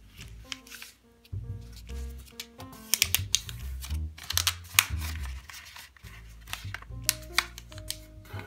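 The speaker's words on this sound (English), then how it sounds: "Fold all three of those." Paper being folded for an origami rabbit ear fold, close and crisp, with repeated crinkles, creases and sharp paper snaps in an irregular rhythm, without speech.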